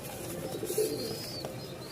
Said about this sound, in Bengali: রাজশাহীর কবুতর খুব ভালো উড়াবাজি আছে